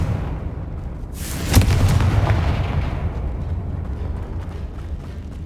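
A Confringo fire spell goes off in Hogwarts Legacy, landing as one loud blast with a crackling high burst and deep rumble that slowly decays over a steady low background.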